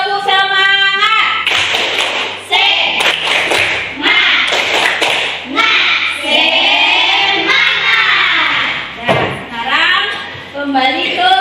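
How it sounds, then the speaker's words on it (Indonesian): Schoolchildren in a classroom perform a rhythmic spirit clap, sharp patterned clapping bursts mixed with their loud chanting voices throughout. "kita beri juga tepuk semangat sebelum kita ke posisi semula"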